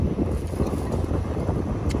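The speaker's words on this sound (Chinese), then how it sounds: "风太大了，呼呼了。" Strong wind blowing outdoors at an open-air cooking spot where chicken is stewed in an iron pot, a steady low roar buffeting the microphone without a break and with no talk.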